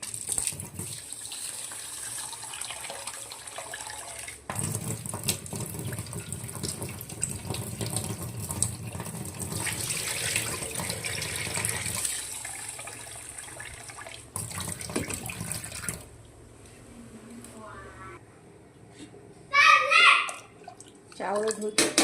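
Rice is washed under running water from a tap into a pot in a home kitchen, a steady gushing stream with clinks and swishes, quieter stretches near the end, while people chat nearby.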